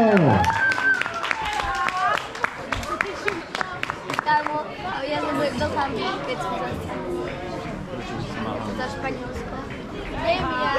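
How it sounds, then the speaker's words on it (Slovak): An audience claps at the youth boys' results ceremony of the 2025 Rozhanovská 12-ka race. The clapping is scattered and fairly close at first and runs under chatter and an announcer's voice. "Chlapci, obrovský potlesk"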